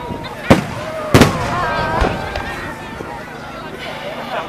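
Fireworks at a Bonfire Night display in Warwick, a few sharp booming bursts early on followed by crackling and fainter pops, heard from the crowd with people talking nearby.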